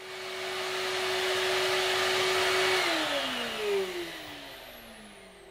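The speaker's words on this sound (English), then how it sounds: "I'm using the solar electric obviously to run the carpet cleaner, clean the carpets." Solar-powered carpet cleaner running indoors, a steady whooshing motor whine that holds evenly, then drops in pitch as it winds down near the end, with no talking.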